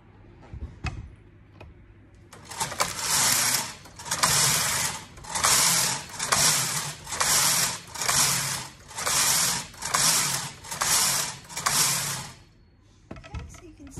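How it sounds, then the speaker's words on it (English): A Brother KH860 knitting machine knits rows with a punch card in a rapid, regular run of about ten bright whooshing carriage passes, each with a rattling mechanical clatter. The passes start after a quiet pause and stop near the end. "Do a few rows of parallel knitting."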